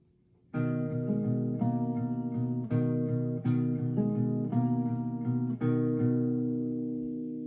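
Fingerpicked acoustic guitar plays a song at regular speed, a steady run of plucked notes with periodic accented strikes, close and alone before fading at the end.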